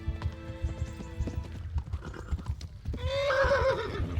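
Rapid hoofbeats clip-clop steadily, then a horse lets out a loud, high whinny near the end, in the video game Kingdom Come: Deliverance.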